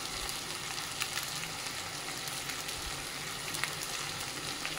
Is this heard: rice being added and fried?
yes